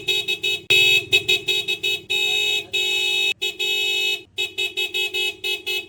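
A loud aftermarket motorcycle horn blasts in quick, choppy bursts of varying length, some short toots and some longer held honks, sharp and close with brief silences between them.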